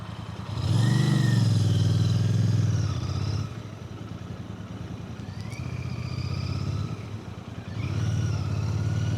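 A Royal Enfield Bear 650 motorcycle's exhaust burbles loudly and close by, rising in several revving surges separated by lower idling stretches, with no talk.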